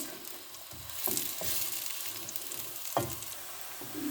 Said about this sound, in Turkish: Soğanlarımı karıştırıyorum kızarmaya başladılar.